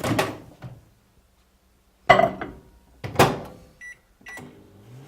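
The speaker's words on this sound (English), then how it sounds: "I'm just going to put them into the microwave for a few minutes." Kitchen thuds and clunks as a microwave door is opened and shut, buttons pressed, and a short electronic beep sounds, with quiet gaps between.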